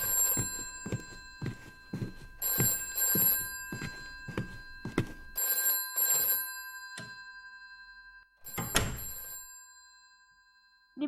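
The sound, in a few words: telephone ringing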